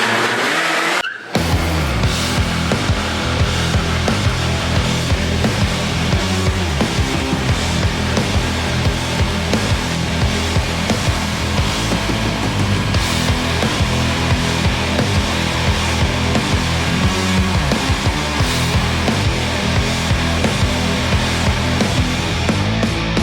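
The Sea Foam Dirt Rat off-road vehicle engine fires up after a short pause and then roars continuously and loudly nearby, revving hard with a dense, sustained engine drone throughout.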